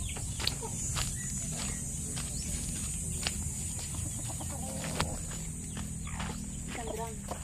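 Native hens clucking on a Philippine farm raising Muscovy ducks, scattered soft clucks and calls over a quiet outdoor background, with people speaking faintly now and then.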